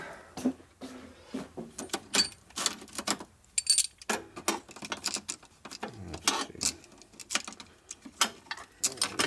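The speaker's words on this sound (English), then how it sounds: "Go ahead and get our sockets." Metal sockets clinking and rattling as they are pulled from a socket set while working on a custom Harley Evo chopper bobber, a dense run of sharp close taps and jangles with no talk.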